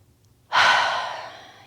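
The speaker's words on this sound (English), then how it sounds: "Breathing." A single long exhale during a yoga session, breathed out audibly and close after a brief silence, starting strong and fading gradually over about a second.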